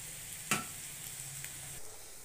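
Onions frying in a pan for chicken kosha, a steady soft sizzle of oil with a brief scrape or stir near the start, quiet and close with no talking.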